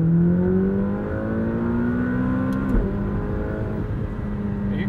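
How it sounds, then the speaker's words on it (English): A 2020 McLaren 570S with a twin-turbo V8 pulling from low revs, a loud, close engine drone rising steadily in pitch, briefly dipping at a gear change, then climbing again, heard from inside the cabin. "If I accelerate here from low revs, you'll really see the crescendo in power that we experience."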